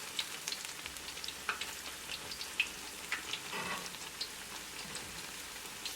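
A pakora of besan batter fries in hot oil, giving soft scattered crackles and small pops that are fairly faint, irregular and unaccompanied by speech.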